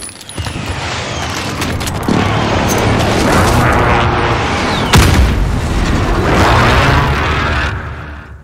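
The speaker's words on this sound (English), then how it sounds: "Enemy precision airstrike. Take cover." Precision airstrike explosions in a video game, a series of heavy booms and rumbling blasts that roll on for several seconds, with a sharp loud impact near the middle.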